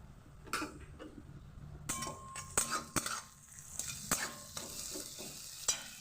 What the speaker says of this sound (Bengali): পেঁয়াজগুলো ভাজা হয়ে গেছে এবার আমি দিয়ে দিলাম আদা রসুনের পেস্ট